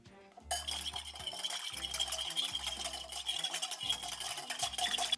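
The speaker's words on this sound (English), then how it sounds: "We're gonna whisk it all together." Salt and pepper are whisked into olive oil with vinegar and cranberry pear, a steady quick metallic stirring and clinking against a bowl, close and fairly quiet.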